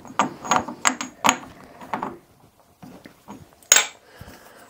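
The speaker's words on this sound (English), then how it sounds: "So that jaw can be reversed, like that." Metal jaw of a four-jaw lathe chuck being taken out, flipped and refitted, with a run of close, sharp metallic clinks and ratcheting clicks, a short lull, then one more loud clank and a faint scrape.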